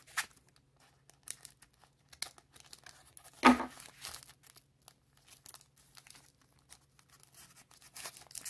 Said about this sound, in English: I forgot how hard packs are to open them.